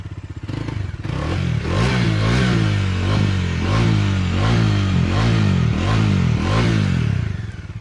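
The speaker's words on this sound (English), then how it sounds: "Moving on to the motorcycle it shares its engine with, the Bajaj Dominar 400." A Bajaj Dominar 400 motorcycle with a twin-pot exhaust revs repeatedly, each throttle blip rising and falling in a steady rhythm of loud, close engine bursts, with no talk.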